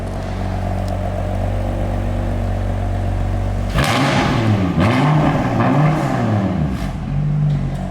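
A BMW F80 M3 with an equal length mid pipe idles with a steady hum, then fires up loudly with a sharp starting burst that settles into a wavering, revving rumble close by.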